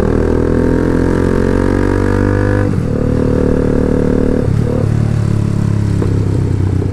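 A motorcycle's aftermarket exhaust roars close by while riding, its steady engine drone shifting as the rider changes throttle, with a brief dip and recovery midway before settling into a continuous rumble.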